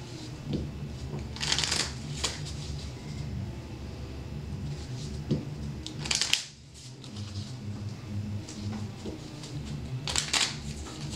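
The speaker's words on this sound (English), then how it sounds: "put it back on my deck, and then shuffle again" Cards riffle-shuffled several times, each burst a quick flutter of snapping cards, close up, with soft handling noise in between.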